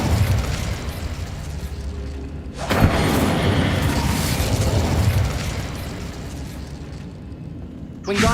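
Incendio fire spell blast in Hogwarts Legacy, a loud sustained roaring burst of flame that rushes for several seconds, cuts off abruptly, then flares again briefly at the end.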